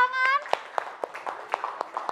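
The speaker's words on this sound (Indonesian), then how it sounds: "Oke, tepuk tangan." Children clap their hands in a steady rhythm of about eight sharp, evenly spaced claps, preceded by a brief voice.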